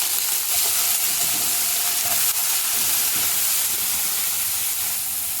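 Raw plantain pieces fry with turmeric in a pan, making a loud, steady hissing sizzle with faint stirring scrapes that continues unbroken throughout.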